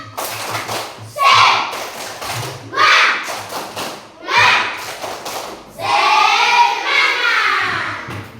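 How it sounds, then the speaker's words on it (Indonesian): A class of fourth-grade children at an elementary school do a rhythmic spirit clap, bursts of patterned group clapping and thumps trading off with loud chanted voices, the children's voices rising into a sustained shout near the end. "Mantap, tepuk semangat."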